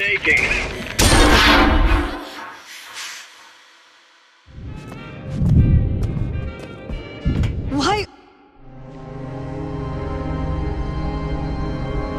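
Loud hand cannon gunfire cracks in bursts in the video game BioShock Infinite: Burial at Sea: a heavy opening blast, then a cluster of sharp rapid shots, followed by a lingering low rumble.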